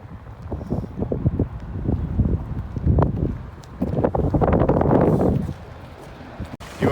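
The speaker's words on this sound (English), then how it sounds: "It's real windy." Gusty wind buffets the microphone in heavy low rumbling bursts outdoors in Keflavik, Iceland, with rustling and a few faint clicks, loud and close throughout.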